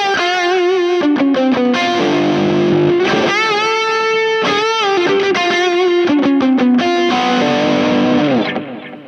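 A heavily overdriven electric guitar through a JFET-into-germanium dual overdrive pedal, the HangmanFX Lord GermFet, plays sustained, gritty notes and chords with a fuzzy, saturated tone, ringing out loudly before fading at the end.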